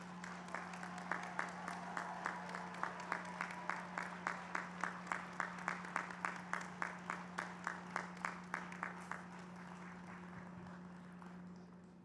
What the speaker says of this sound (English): Give all of our doctorates a round of applause.